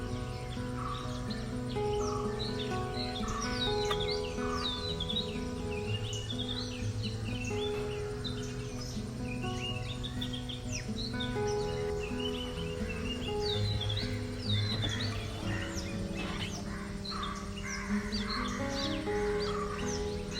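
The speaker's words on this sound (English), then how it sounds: "So let's listen to the original sound of the forest for a little while." Forest ambience at Kabini in Nagarhole Tiger Reserve, India: a steady, dense chorus of chirping birds and buzzing insects fills the full stretch, with varied calls near and far and no talk.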